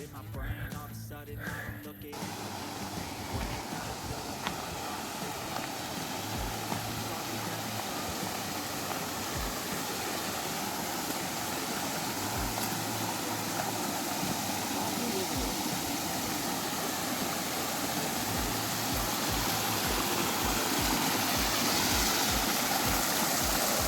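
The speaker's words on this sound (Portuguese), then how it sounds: "Aqui é a Cachoeira da Sentinela" The Sentinela waterfall in Biribiri park, Brazil, roars as a steady, loud wash of falling water that fills the whole clip. A low engine-like hum comes and goes beneath it.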